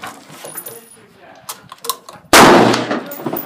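One loud, sharp gunshot from a Yugoslavian SKS M59/66 rifle cracks out at an outdoor shooting session, following a few faint clicks and handling noises, then a short ringing tail.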